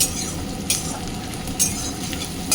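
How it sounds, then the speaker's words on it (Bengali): Onions fry in oil in a pan, browning with a constant close sizzle, broken by a few soft scrapes and clinks of a stirring spoon. "এখানে পেঁয়াজটা ভালো করে একটু লাল লাল করে ভেজে নিচ্ছি"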